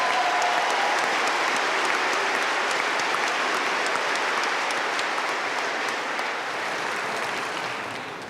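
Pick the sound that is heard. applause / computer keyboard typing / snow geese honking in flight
applause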